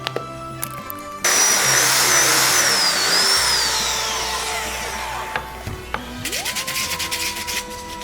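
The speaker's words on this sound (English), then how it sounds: "I need to drill a hole in here" A power drill whirs steadily into wood for several seconds, then winds down, followed by a rising motor pitch and scattered clicks.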